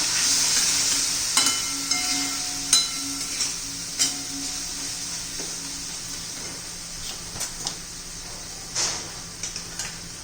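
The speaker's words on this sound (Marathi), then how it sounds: "हळद धना पावडर व्यवस्थित मिक्स करून घेऊया" Turmeric and coriander powder with red chili frying in a pan while a spoon stirs and scrapes, a steady close sizzle with scattered clinks and scrapes against the metal.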